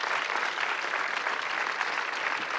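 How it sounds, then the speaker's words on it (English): Dense, continuous applause from the audience at a film panel with the filmmakers and cast of No Country for Old Men, a steady roar of many hands with no break. "Hold for applause."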